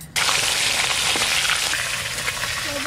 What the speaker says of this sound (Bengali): এই মাছগুলো ভেজে নিলাম, এবার তুলে নেবো।